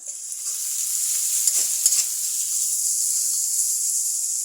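Onions and green chillies with salt sizzle and fry steadily in a pan while salted hilsa bhuna is cooked, a continuous close hiss with a few faint stirring scrapes and no talk.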